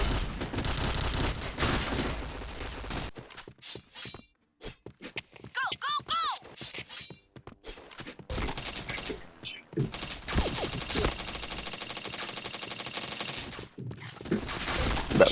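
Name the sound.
gunfire from a video game shooter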